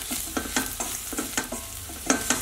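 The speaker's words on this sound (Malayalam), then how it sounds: "ഒന്ന് നന്നായിട്ട് വഴറ്റി എടുക്കാം." A piece of asafoetida sautéed in a pan for Kerala sambar, with soft sizzling under repeated close spatula strokes scraping the pan in a quick, uneven rhythm.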